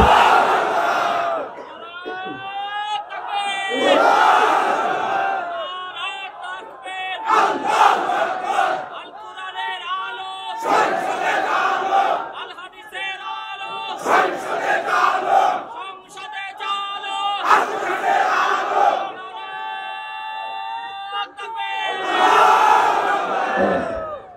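A large crowd at an outdoor Bangla waz gathering roars a takbir chant in repeated loud collective bursts, answering a preacher's call, with brief gaps between each swelling shout.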